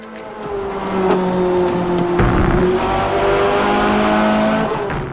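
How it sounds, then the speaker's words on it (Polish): Racing car engine in Forza Motorsport (2023) drones steadily with rising and falling pitch, tires squealing intermittently over bumps and hard corners, close and loud throughout. "dźwięk opon podczas pokonywania nierówności, czy ostrego wchodzenia w zakręty"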